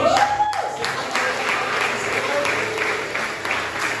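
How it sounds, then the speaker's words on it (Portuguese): Church congregation applauding during a service, a moderate wash of clapping that continues steadily, with a voice speaking briefly at the start. "E eu queria que você aplaudisse o Senhor nesse momento"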